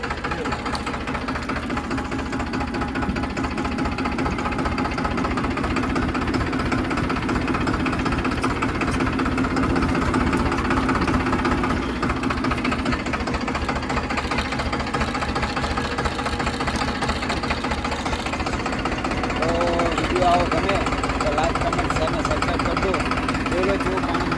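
A tractor engine runs steadily as the tractor is driven forward out of a muddy yard, a close, continuous chugging rumble with a faint rattling vibration that holds at the same level throughout.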